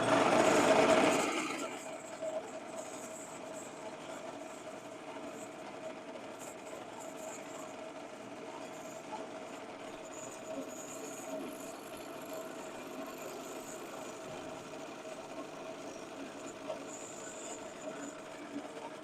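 A wood lathe spins a workpiece while a small spindle gouge cuts, giving a steady, fairly quiet mechanical whir that stays even throughout after a brief louder burst at the very start.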